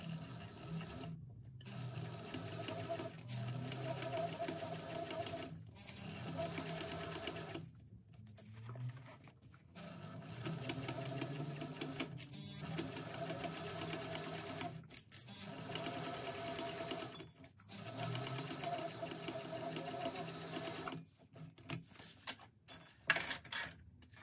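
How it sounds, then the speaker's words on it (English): A sewing machine stitches a second row along the piping seam of a bag, running in repeated close bursts of steady whirring separated by brief pauses and stops, with no talk. "I'll go back and do a second row of stitching just to be sure I've caught it"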